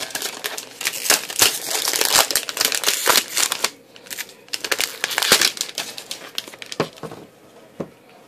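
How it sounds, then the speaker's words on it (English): Plastic film is peeled and crinkled off a new Nook HD tablet, close crackling and rustling bursts that come in uneven waves and then fade to sparse crinkles. "Let's take the plastic off."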